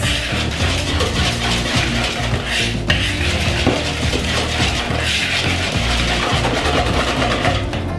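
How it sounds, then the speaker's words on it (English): Cake batter with chocolate and flour stirred in a bowl, a steady run of scraping, knocking utensil-on-bowl strokes, close and continuous, with no talking. "I'm going to put about half of that in. Give it a stir."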